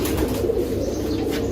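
Fancy pigeons crowd a loft with a steady low cooing murmur close at hand, with a little wing flutter and no talk.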